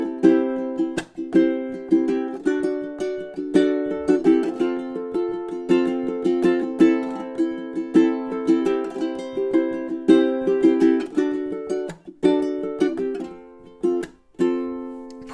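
Ukulele strummed with rasgueado flourishes, muted ghost notes and percussive chunks, playing a bright chordal pattern with crisp rhythmic accents throughout, close and fairly loud with no voices.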